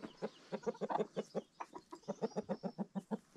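Chickens on a rural highland farm cluck in a rapid run of short pulses, a dense, close chattering that continues throughout without pause.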